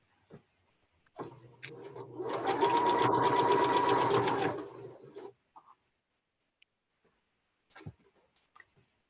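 A sewing machine stitches a giant tulip quilt block in one steady run of about four seconds, a close, even mechanical whir that starts and stops abruptly, followed by quiet with a few faint clicks.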